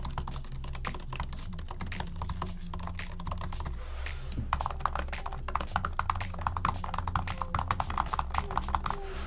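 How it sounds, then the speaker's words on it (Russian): Typing on the scissor-switch keyboard of a 2020 MacBook Air, a steady patter of quiet, close key clicks that quicken and grow slightly crisper in the second half, with no talking. "Клавиатура ножницы стала, кстати, тише по сравнению с клавиатурой бабочкой, которая была до этого."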